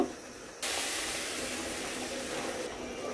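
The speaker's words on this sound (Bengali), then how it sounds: "এখন আমি বাগারটা মাংসের মধ্যে ঢেলে দিব" Hot spiced oil tempering poured over beef and potato curry bursts into a loud, close sizzle that starts abruptly and holds steady for about three seconds, with no talking.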